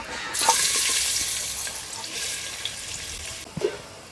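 Finely chopped onion hits hot oil and sizzles loudly in a steady bright hiss, with a couple of light clinks of a spoon against the pan, while cooking mutton sukka.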